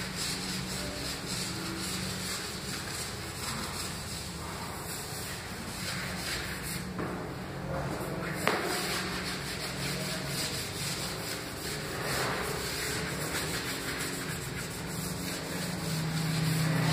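Porcelain tile grout is polished by hand, a steady close scrubbing and rubbing that continues without pause over a constant background hiss.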